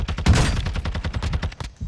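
Rapid bursts of video game gunfire during an online shooter match, loud and close, a fast string of sharp reports fired in quick succession that fades off toward the end.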